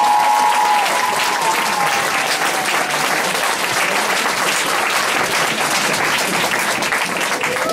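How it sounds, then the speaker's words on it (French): Loud, dense audience applause fills a show hall in 2014, a steady roar of many hands clapping without pause from start to finish, with a brief tonal element near the beginning. "Merci de lui réserver encore une fois un tonnerre d'applaudissements."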